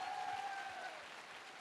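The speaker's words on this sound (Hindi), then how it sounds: "मैं चाहूंगा एक बार जोरदार तालियां होनी चाहिए।" Audience applause at a speech event in Varanasi, a faint, even wash of clapping from a crowd, distant-sounding and quiet, with a brief tonal whistle-like sound over the start.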